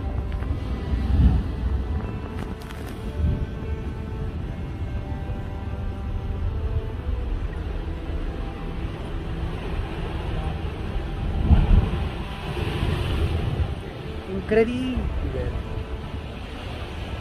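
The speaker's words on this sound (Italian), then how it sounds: "Arrivano le onde, eh?" Stormy winter sea at Cefalù, Sicily, with heavy waves surging and wind buffeting the microphone in a continuous roar, as someone speaks briefly over the noise.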